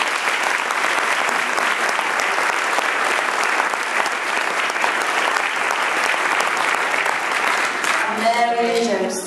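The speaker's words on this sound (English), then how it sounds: "so a huge clap for them" Audience applause for year two children who danced as angels at a primary school nativity: loud, sustained clapping from a large crowd filling the hall, fading as an adult voice begins speaking near the end.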